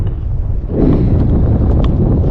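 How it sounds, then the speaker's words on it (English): Loud wind roars across the microphone atop a high cliff ledge, a constant rumbling rush that swells slightly partway through, with no voices. "It's quite windy up here."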